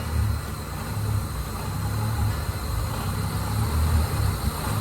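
A 2002 Mitsubishi Lancer OZ Rally engine idles steadily while the idle screw is adjusted, a constant low rumble close by with no clear change in pitch.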